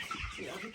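Chickens clucking in a Jamaican yard, a short burst of mid-pitched clucks at moderate distance over background noise.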